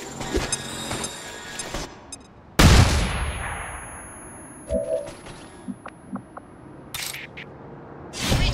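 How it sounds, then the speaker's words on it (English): A flashbang grenade going off in XCOM 2, one sudden loud burst that decays over a couple of seconds, surrounded by scattered game sounds and clicks. "Flashbang!"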